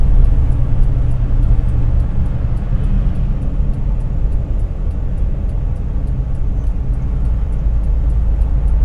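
A car fitted with a clurit-style rotor drives on a test run, its engine droning loud and steady with a dense low rumble throughout, the revs holding fairly even with no voices over it.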